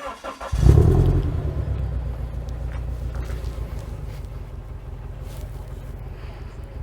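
A Toyota GT86 fitted with a Milltek exhaust idles steadily with a low, even rumble after a brief rise as it settles, with some wind noise over the microphone.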